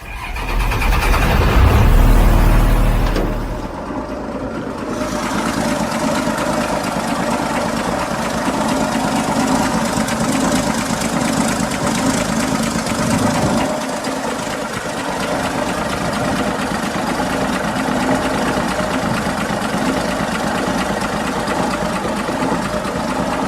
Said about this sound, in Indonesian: Berikut kita lihat dan dengar suara mesin Chevrolet C50 Viking.